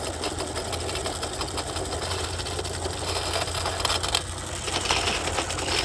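A large nitro RC car, a 4x2 model, runs its small engine with a continuous buzzing, rattling drone that stays loud and steady throughout, with no talk over it.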